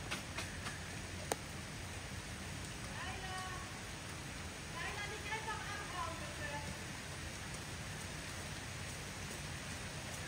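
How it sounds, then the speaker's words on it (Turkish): Heavy rain pours steadily and keeps intensifying, a dense continuous wash of drops close by, with faint voices and a few sharper patters over it. "Hala da hızlanıyor yağmur."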